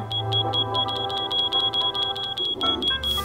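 A video-game smoke alarm sounds a rapid series of sharp, high electronic beeps, repeating in a steady rhythm over a low droning hum, ending in a burst of noise.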